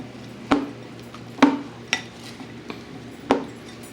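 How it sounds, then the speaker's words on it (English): Metal spoon clinking against a bowl while tossing seasoned potatoes with rosemary, a few sharp separate knocks spaced about a second apart over a low steady background hum. "Now I want to grab a spoon and I want to mix all this together so that I coat every potato with everything."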